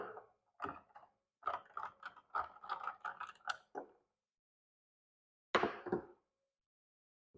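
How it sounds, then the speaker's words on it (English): A spoon stirs an applejack and ginger beer cocktail in a glass, giving a quick run of close, rattling clinks and knocks, then a pause and a brief final clatter. "Give this a quick stir."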